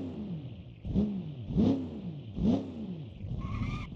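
A car engine in the BeamNG driving game revs in three rising surges about a second apart, each sweeping up in pitch and falling back, close and steady, with no talk over it.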